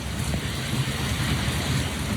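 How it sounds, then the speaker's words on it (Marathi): Dense, steady rain hisses continuously, a loud wash of falling water without pauses or voices. "किती जोरदार पाऊस आला"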